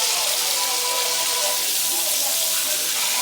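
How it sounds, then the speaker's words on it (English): Oxtail searing in a hot pan gives a loud, continuous close hiss and sizzle that holds steady with no pauses. "I'm searing my oxtail."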